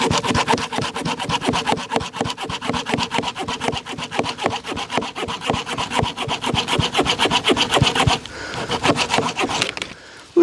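A Klein Tools Blackfire folding saw cuts through hardwood in rapid, even rasping strokes, loud and close, dozens of rhythmic passes before the sawing stops near the end, with no talking.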